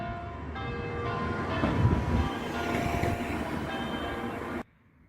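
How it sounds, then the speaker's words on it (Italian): A church bell rings out in an Italian hillside village, sounding steadily with sustained ringing tones over a broad wash of resonance, moderately loud and continuous, then cutting off abruptly near the end. "sono accompagnato da questo splendido suono di campana."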